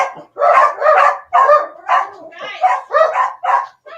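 Several dogs bark in a rapid series of loud, close yaps and woofs, one after another with short gaps, alone without talk.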